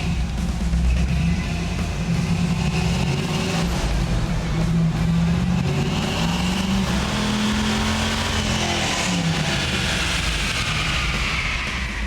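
A high-mileage 1969 Chevrolet Camaro engine revs hard on a dyno, a loud continuous roar whose pitch climbs steadily, dips, and climbs again under full load, with no talking.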